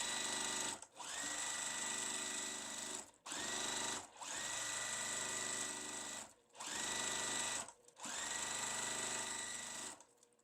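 A sewing machine chain-piecing quilt block fabric whirs loudly in four sustained bursts of stitching, with short pauses between runs.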